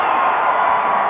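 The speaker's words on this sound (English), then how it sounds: "she gets a loud cheer too" Stadium crowd cheering a try by Hong Kong China at a women's rugby match against Kazakhstan at the Melrose tournament, a loud, dense, sustained roar with no pauses.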